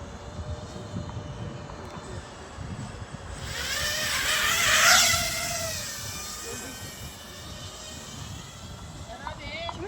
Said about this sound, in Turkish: FUV gözlükle drone uçuşumuz.